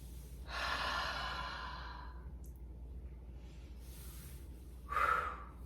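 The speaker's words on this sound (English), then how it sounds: "Take a deep breath in." During a relaxing breathing exercise, a person takes one long, deep breath in, a soft airy rush lasting over a second, followed by a brief, sharper exhale a few seconds later in a quiet room.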